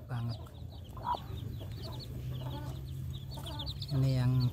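Pakhoy chicks and a Taiwan shamo hen cluck and peep close by in short repeated calls, with a louder hen call near the end and a voice talking softly underneath.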